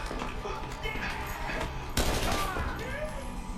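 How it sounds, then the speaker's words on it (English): Gunfire from a Squid Game episode comes as a sudden burst partway through, heard under a continuous dense mix of show audio and talk. "Those are gunshots."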